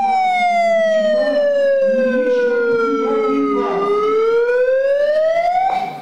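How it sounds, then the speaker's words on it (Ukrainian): Loud wailing sirens switched on by activists in a council hall sweep down and back up in pitch, filling the room continuously with a harsh, echoing tone. "активісти в залі вмикали сирени"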